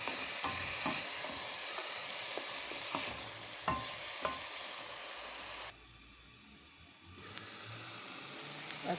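Chicken and chickpeas are stirred in a pan for an Algerian kebab dish, with gentle scraping and clinks over a quiet sizzle. The sizzle briefly fades before returning softer.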